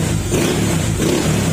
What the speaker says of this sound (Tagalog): Galit na galit yung makina, kahit kunting piga pa lang.